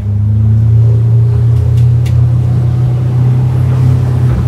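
A boat powered by a Mercury 150 Pro XS outboard motor gets up onto the plane, a loud steady low engine hum that holds constant and close throughout, with no voices.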